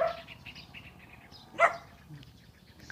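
A dog gives a single short bark at a distance amid faint room noise, with a brief bird-like chirp earlier and no talking.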